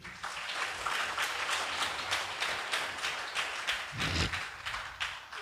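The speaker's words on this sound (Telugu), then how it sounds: "గట్టిగా చప్పట్లు కొట్టండి" A church congregation at a special prayer gathering claps loudly together. The clapping is dense and sustained for about five seconds, with a brief swell near the end and no talking over it.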